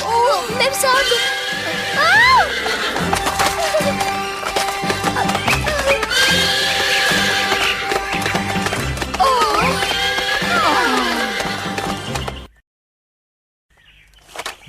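A horse in the 1996 Hindi television series of Cinderella neighs, with whinnies rising over a busy musical background several times before the sound cuts to near silence at the end.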